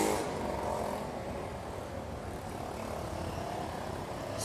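A vehicle with a loud, faulty muffler rumbles past on a street in DC's Chinatown, a steady rough engine drone that swells and eases with no clear gaps, heard alone without talk.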